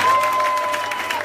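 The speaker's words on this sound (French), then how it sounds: "Est-ce qu'on peut acclamer le Seigneur?" Congregation applauding during a praise and worship prayer service, a steady wash of clapping from a crowd with a faint sustained tone beneath it, brief and even.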